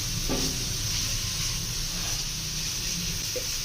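Carrots frying in a pan over a high flame for egg fried rice, giving a steady, close sizzle and hiss with faint stirring scrapes throughout.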